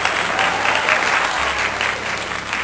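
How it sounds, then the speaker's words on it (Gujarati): Loud applause from a school function audience welcoming student dancers to the stage, a thick, sustained wash of clapping with no voices over it. "જોરદાર તાળીઓ સાથે તેમનું સ્વાગત કરીએ."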